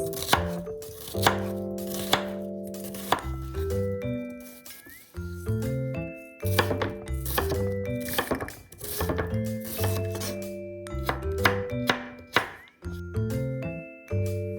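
Rapid knife chopping of onion on a cutting board, sharp repeated strikes in quick bursts, with light music playing underneath throughout.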